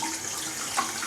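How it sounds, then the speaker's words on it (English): Water running steadily from a bathroom tap while hands are washed, a close, bright hiss with a small splash near the end, no voices. "So wash my hands."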